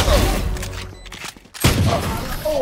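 Gunfire in a first-person shooter video game: a loud burst of shots at the start, a brief quieter gap, then another heavy volley of rapid gunfire with booming impacts.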